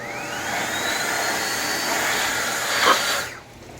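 A Milwaukee M18 cordless battery air blower runs steadily with a loud, close, broadband rushing whoosh and a faint rising whine, then quickly tapers off near the end.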